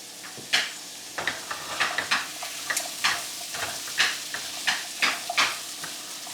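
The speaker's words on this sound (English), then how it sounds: "just give it a solid mix around" Chickpea dish stirred in a pan with a spoon, a run of scraping, clattering strokes against the metal over a soft frying sizzle, close and steady with no talk.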